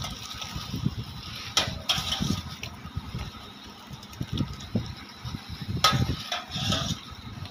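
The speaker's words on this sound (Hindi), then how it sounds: "पानी डालकर इसी तरीके से थोड़ी देर बराबर हिलाना है।" Hot water is poured over sulfur and shaken in a container to wash it, giving irregular sloshing and splashing bursts over a low rumbling background.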